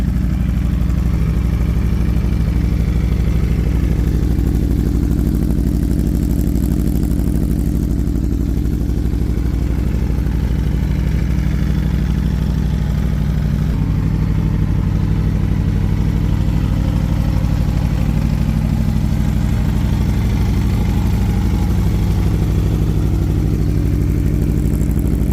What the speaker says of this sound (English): That Spark exhaust does sound good